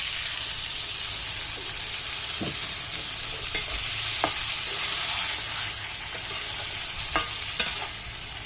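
Country chicken curry sizzles in a pan after a splash of water goes in, a steady bright hiss with a few soft clicks of stirring scattered throughout.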